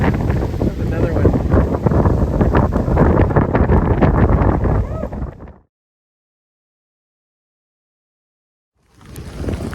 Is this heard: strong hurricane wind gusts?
yes